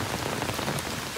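Heavy rain falls on the campus of Dibrugarh University, a dense, steady hiss of drops striking surfaces, close and continuous with no voices.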